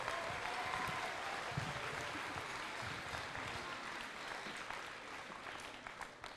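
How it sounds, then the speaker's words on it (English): At a robotics championship closing ceremony in Central California, a large audience delivers a long, dense round of applause that fades slightly toward the end, with faint voices underneath. "I want you guys to do another great big round of applause for that"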